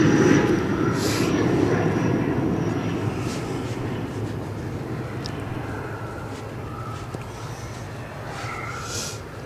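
Aircraft passing at Edinburgh airport, a steady broad engine roar that is loudest at the start and slowly fades across the clip, with no talk.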